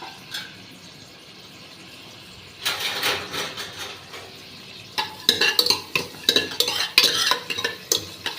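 Whole biryani spices drop into hot groundnut oil for a country chicken biryani, with a quiet start before a sudden sizzle, then rhythmic scraping and clinking of a spoon stirring in the pan, close and fairly loud.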